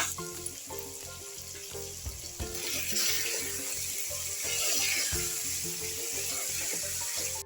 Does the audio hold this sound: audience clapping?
no